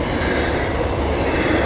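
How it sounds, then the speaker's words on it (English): An Aurizon double-stack freight train rolls past close by, a loud, continuous roar of wagons and wheels on rail with no break and no voices. "Australia hits pretty hard with their old freight trains"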